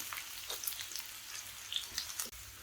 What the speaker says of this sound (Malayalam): നല്ലപോലെ വഴറ്റി കൊടുക്കുക